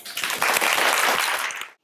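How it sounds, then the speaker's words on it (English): Audience at a technology-for-good talk gives a loud, sustained round of applause, dense clapping filling the room for nearly two seconds before cutting off abruptly. "I want you to start with a massive round of applause for all of you."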